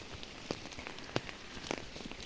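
Steady rain falls on a rural pasture during the rainy season, a soft continuous patter broken by a few sharper drop hits on nearby surfaces, fairly quiet and close, with no one speaking.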